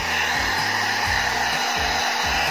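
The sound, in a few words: hair dryer drying a mainboard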